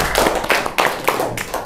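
Applause from a classroom group right after singing Indonesia Pusaka together, with bursts of close hand claps that come in uneven waves over steady noise, brief and moderately loud.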